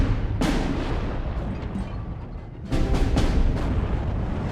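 Artillery fire in the Steel Division 2 war game, with 75mm guns joining in: a booming shot early, then a loud cluster of heavy blasts later, over a constant battlefield rumble.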